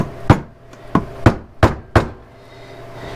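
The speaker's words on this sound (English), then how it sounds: "I use the hammer to knock it in that hard plastic so I can pop it out." Five sharp, loud hammer knocks strike hard plastic trim on a Honda Civic, evenly spaced about a third of a second apart, each with a short ringing decay, followed by quiet.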